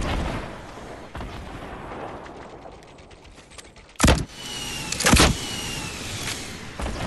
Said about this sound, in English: Finally, they're shooting at him.